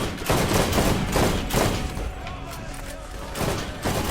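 Rapid bursts of gunfire from an assault-rifle and sniper-rifle hybrid in Borderlands GOTY, loud and close, arriving in several uneven volleys with short gaps between them.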